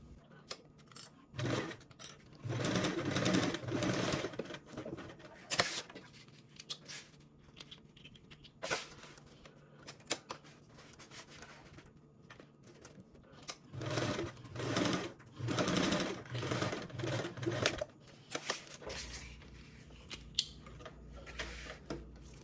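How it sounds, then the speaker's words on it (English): A sewing machine bastes two fabric sides and runs a dividing stitch down the middle, in several bursts of steady motor whir separated by pauses, close and moderately loud. "Now we are going to go ahead and baste our two sides and then make a dividing stitch along the middle"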